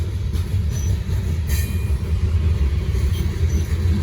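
A Norfolk Southern freight train rolls past in Gaffney, South Carolina, with a steady, loud low rumble of wagons on the rails and occasional faint wheel squeals, and no voices.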